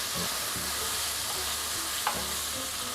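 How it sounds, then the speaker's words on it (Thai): Pork pieces frying in plenty of oil in a pan, a continuous close sizzle with light stirring scrapes running through. "แล้วเราก็จะ ทอดเขาไปเรื่อยๆนะครับ"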